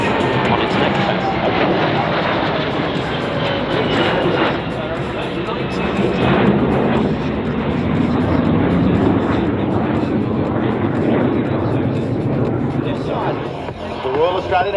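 A KC-30 tanker transport aircraft of the Royal Australian Air Force passes at an air show, a loud sustained jet roar that holds steady throughout, with no one talking over it.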